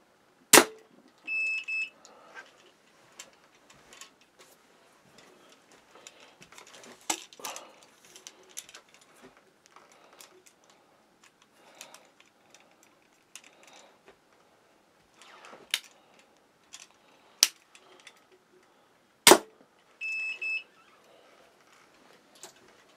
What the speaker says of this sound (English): I'll shoot each crossbow twice.